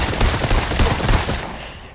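Dense, continuous automatic gunfire from a Fortnite match, a loud rapid rattle of shots that runs for most of the moment before trailing off at the end, with no talking over it.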